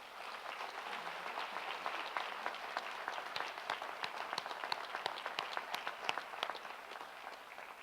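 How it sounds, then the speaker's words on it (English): Graduation audience applauding the Students' Union at a Wrexham Glyndwr University ceremony, a steady wash of many hands clapping throughout, moderately distant and even, with a few sharper claps standing out near the end. "So let's give our Students' Union a clap, shall we?"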